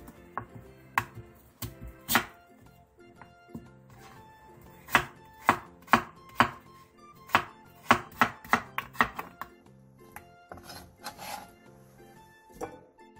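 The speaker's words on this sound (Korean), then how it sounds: "무 5cm 두께 한 토막을 손가락 한 마디 정도의 두께와 길이로 잘라주세요." A knife chops radish into finger-sized sticks on a cutting board, sharp wooden knocks landing in uneven bursts, some in quick runs and others spaced apart, close and clear with no talk.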